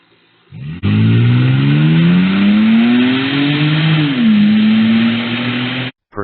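A neighbor's car drives past and pulls into a shared residential driveway, its engine note rising and sliding steadily for several seconds at close range, loud and alone before cutting off abruptly.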